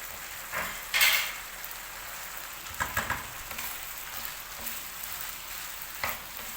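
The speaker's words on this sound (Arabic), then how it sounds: "ادي بس البصل والفلفل تشويحه كده مع اللحمه" Onions, peppers and meat sautéing in a pan, a soft continuous sizzle broken by a few louder stirring scrapes and utensil clinks against the pan, close, with no speech.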